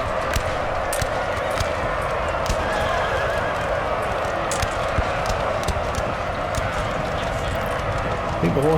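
Massed cavalry horses in Napoleon Total War neigh and whinny over a dense, continuous drumming of galloping hooves, loud and unbroken throughout.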